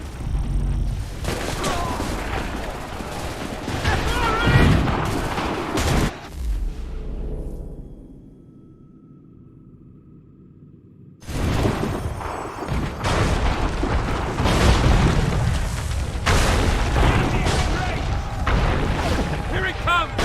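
Gunfire volleys crash out in a colonial-era battle in the video game Assassin's Creed III, as dense, loud bursts of musket shots with booming impacts. A sudden near-silent gap is followed by another sustained barrage of shots and crashes.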